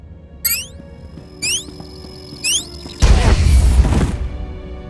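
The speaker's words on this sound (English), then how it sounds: "That was a nasty explosion." A detonator blast in Star Wars: The Old Republic goes off as a loud, sudden roar that holds for about a second and then rumbles away, following three short electronic chirps.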